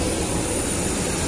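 Jet engines of an airliner in flight, a steady broadband roar heard continuously and loudly from inside the cabin, with no speech over it.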